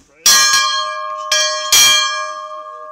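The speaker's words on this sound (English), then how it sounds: "Take that money and buy a bell and name it after me." A camp bell rings out loud and close, three clear strikes with long ringing tones that hang and fade between hits, with no voices.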